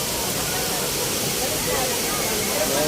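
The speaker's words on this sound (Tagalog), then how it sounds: "Ito po yung falls." The Bulinaw waterfall roars in a constant, dense rush of falling water, loud and unbroken.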